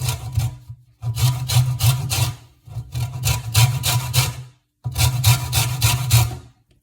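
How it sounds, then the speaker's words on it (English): Lemon zested on the fine side of a box grater: four close, loud bursts of rhythmic scratchy rasping strokes, each a rapid back-and-forth series separated by short silent gaps. "You want to use the fine side. Literally all you do is hold the lemon against it,"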